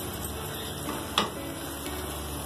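Potatoes and bell peppers with crushed red chilli and turmeric fry in a pan, giving a soft, steady sizzle with one sharp clink near the middle.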